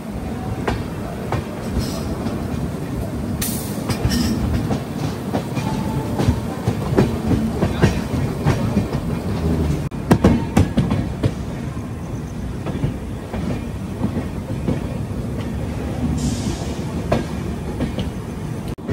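A train with ICF coaches rolls into an Indian railway station, a steady rumble with rhythmic clickety-clack of wheels over rail joints and occasional metallic squeals, close by and continuous.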